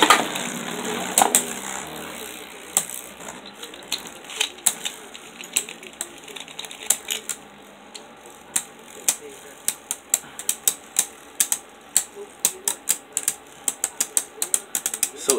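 Beyblade Burst spinning tops battling in a stadium: a steady run of sharp clicks and ticks from the clashing tops, growing faster and more regular toward the end, with a faint high whine underneath.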